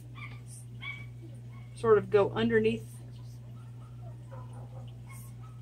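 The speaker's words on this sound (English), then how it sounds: "The dogs are going crazy." Several dogs let out a short burst of yips, barks and whimpers, mid-loud and a little distant, under a person talking over a steady background hum.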